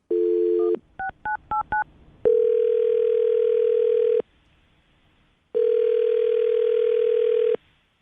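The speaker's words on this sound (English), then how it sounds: "I'm going to dial the phone number right now." A telephone dial tone hums steadily, broken by a rapid series of short touch-tone dialing beeps, then returns in two long sustained stretches separated by a brief silence.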